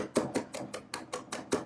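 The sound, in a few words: rock chopping garlic with salt on cutting board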